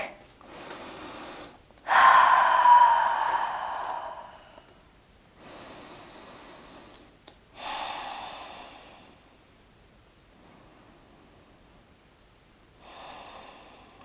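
Several slow, deep yoga breaths in downward dog, each a long airy rush of air in and out, separated by quiet pauses; close and fairly loud, no talking.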